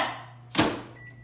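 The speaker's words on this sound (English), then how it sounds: "I'm gonna try to melt the Crisco in the microwave." A countertop microwave oven melting Crisco shortening gives a low steady hum, broken by a single solid door-like clunk, followed by a faint short electronic tone.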